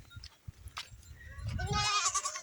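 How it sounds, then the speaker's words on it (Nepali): Goats in a large herd being driven to forest grazing in Nepal bleat close by, a wavering call swelling at the end over scattered footsteps and rustling. "टन्नै बाख्रा लिएर जाँदैछु आज चराउन जङ्गल"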